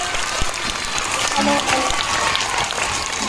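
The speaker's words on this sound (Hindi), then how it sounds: "अपने टीचर्स के लिए, उत्साहवर्धन के लिए खूब जोरदार तालियां बजाइए" An audience claps for teachers at a school event, a brief, steady burst of moderate applause with a faint crowd murmur beneath.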